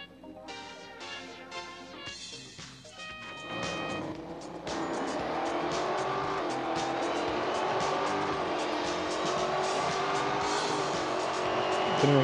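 An Aston Martin Vantage N430 races in the mobile game Real Racing 3, its engine revving and shifting with tire squeal, then settling into a loud, sustained high-speed roar.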